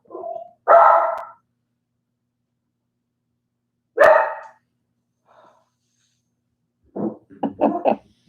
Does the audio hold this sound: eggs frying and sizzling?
no